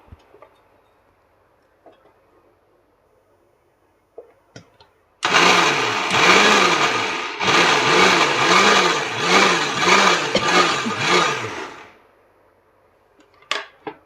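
Mixer grinder grinding sesame seeds for a village-style sesame ball recipe, loud whirring motor run in two close bursts separated by a brief pause, with faint clicks and handling noises before and after.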